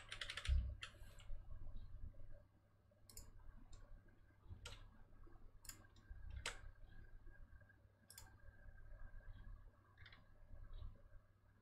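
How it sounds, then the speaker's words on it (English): Typing on a computer keyboard during a programming lecture, irregular clusters of sharp key clicks and taps spread over about eleven seconds, close and fairly quiet, with no talking. "He is typing factorials."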